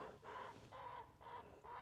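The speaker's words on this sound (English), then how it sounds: "His squawking carried all the way across the river." A heron on a river squawks four times in a row, harsh and rasping, from far across the water and faint in level, with no talk over it.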